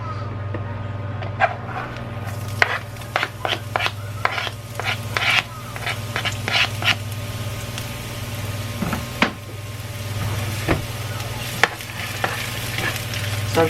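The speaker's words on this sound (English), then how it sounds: "I am going to saute some onions in here." Onions sauteing in a little hot oil in a pan, a steady sizzle with frequent scraping stirs and clicks of a utensil against the pan over a low hum.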